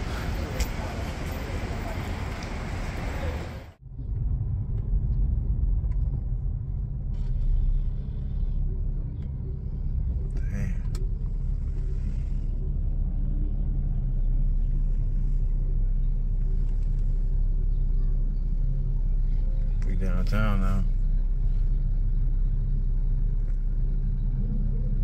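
Steady low rumble inside a moving car, continuous and close throughout after a brief burst of louder noise at the start, with occasional faint clicks and knocks over the drone.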